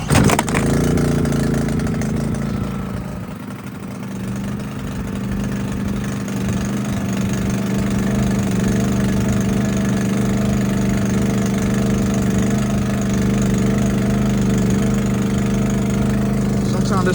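An engine with a dirty carburetor idles close by, starting with a rougher surge before settling into a steady, slightly uneven drone that continues for the whole stretch without speech.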